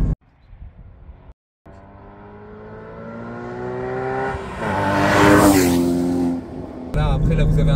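Porsche Cayman GT4 (981) with a naturally aspirated engine revs hard toward the redline, the pitch climbing steadily and turning metallic, loud and close, with a brief cut near the start and a roaring peak before a shift.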